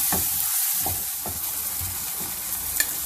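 Vegetables sizzle in a pan while being mixed, a continuous bright hiss with a few soft spatula scrapes, near and even throughout.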